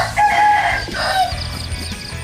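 A Thai fighting-cock breeding rooster crows once, close and loud, in a short ringing call that trails off into faint farmyard background.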